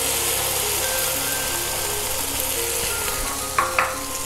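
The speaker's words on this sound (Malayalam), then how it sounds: "മുട്ട ഇതിലേക്ക് ഒഴിച്ചു കൊടുക്കുക" Five beaten eggs poured into a hot pan beside puttu mixture, a loud continuous sizzle with a couple of sharp clicks near the end, no one talking.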